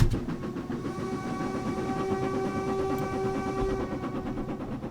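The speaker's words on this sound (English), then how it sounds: "Good whistle." Steam whistle of an LMS Stanier Class 5 'Black Five' locomotive in the Train Simulator 2018 game, one long steady blast sounding alone over the rumble of the moving train, close and loud, fading at the end.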